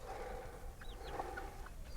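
Chickens on a tropical homestead cluck and chirp softly while eating soaked feed, short scattered calls over a faint steady background.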